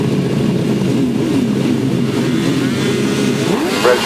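Grasstrack racing motorcycles at the British Masters hold a loud, steady engine drone at the start line, with revs rising sharply just before the end.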